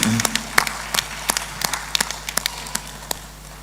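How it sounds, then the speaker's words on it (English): Sparse, scattered clapping from a small audience at an entrepreneurship and creatives talk, distinct individual claps rather than a full wash, over a low room hum. "Round of applause for the brave soul."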